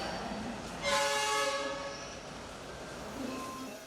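A passenger train on the Medan to Tanjung Balai line in North Sumatra sounds a long, loud horn with steady tonal blasts, over continuous rumbling rail noise that fades to a lower roar afterward.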